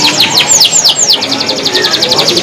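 A canary at a Pramuka bird market sings loud, close rapid chirps and swooping trills in quick repeated phrases, alone with no talk.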